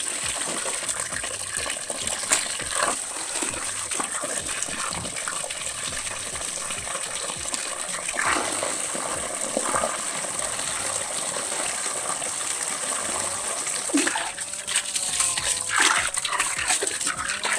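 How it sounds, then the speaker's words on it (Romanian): Water gushes steadily into a tree planting hole during autumn fruit tree planting, a continuous pouring and gurgling rush with occasional bubbling as air escapes, close and fairly loud with no talk. "După ce am băgat suficient apă și tot aerul a ieșit la suprafață, rădăcinile în momentul ăsta sunt umectate."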